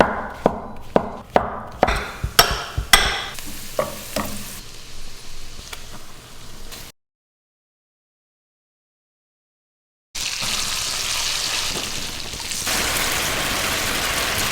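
Bay leaf and rosemary cooking in a pot for Chicken Marsala: a quick run of sharp chopping knocks and sizzling, a sudden silent gap, then a steady, loud bubbling hiss that continues to the end.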